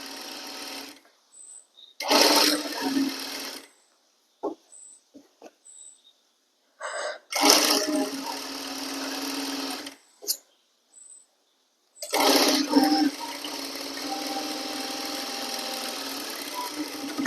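Sewing machine stitching the lining of a kurti, running in three main bursts of steady whirring with short pauses and brief start-stop runs between them, close and clear.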